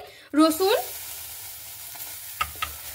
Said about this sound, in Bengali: রসুনটাকে আমি 2-1 মিনিট এইভাবে ভেজে নেব। তেল ছাড়াই কিন্তু ভেজে নিতে হবে।